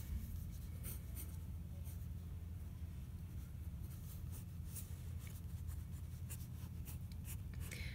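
A pen or pencil sketches on paper with soft, continuous scratchy strokes, faint and steady against a low background rumble.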